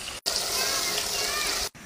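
Cold water pours steadily into a wok of chili oil and hotpot base, a loud continuous rushing splash lasting just over a second, close up, starting and stopping abruptly.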